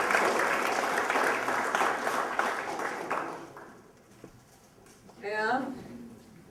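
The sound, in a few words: audience applause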